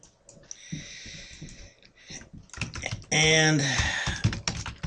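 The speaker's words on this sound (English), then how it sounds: "I'm going to type some text" Typing on a computer keyboard, quick clusters of key clicks at close range, broken up by someone speaking over and between the keystrokes.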